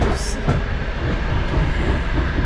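A train crossing the Kazakhstan desert rumbles steadily along the rails, a loud continuous roar with faint clicking, heard from on board.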